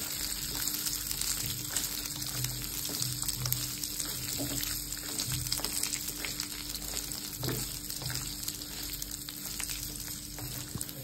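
Cumin seeds and peanuts dry-roast on a hot tava griddle, giving a steady close crackle and light sizzle with occasional scraping stirs throughout.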